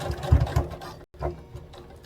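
A sewing machine stitches along zipper tape for a hoodie in short runs, a brief stop near the middle, then the motor whirs on again close and steady.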